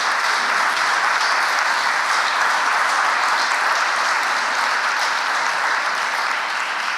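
Sustained, dense applause from a ceremony audience thanking the organizers of the 2019 Hall of Fame, steady and even in volume for the whole stretch with no talking over it.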